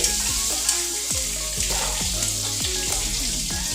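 Steady sizzling of okra frying in a pan with Kashmiri red chilli, with repeated scraping strokes of a spoon stirring through it at a close distance.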